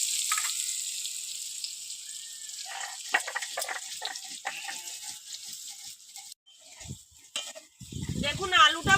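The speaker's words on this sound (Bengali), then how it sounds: "দেখুন আলুটা ভাজা হয়ে গেছে" Potatoes frying in hot oil in a village kitchen, a steady bright sizzle with scattered pops and scraping stirs, mixed with brief speech.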